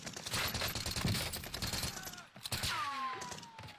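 Gunfire in the video game Call of Duty Warzone: steady, dense rattling bursts of shots with a loud, cluttered game soundscape behind them.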